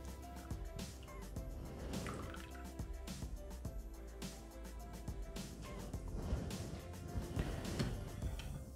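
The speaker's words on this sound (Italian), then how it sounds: "versiamo la panna" Cream pours into a Thermomix bowl, a faint, continuous liquid trickle with small splashy drips and light clinks throughout.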